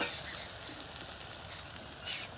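Ground mustard paste with green chillies hits hot spices in a pan, giving a steady close sizzle and hiss for a brief moment with no talk.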